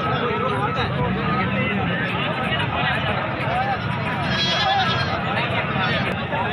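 Goats bleating at a crowded goat market, several animals calling over a constant din of crowd babble and people talking nearby.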